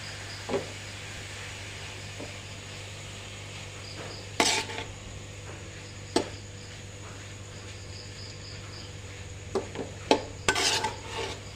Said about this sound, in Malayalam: ഇളക്കി യോജിപ്പിക്കണം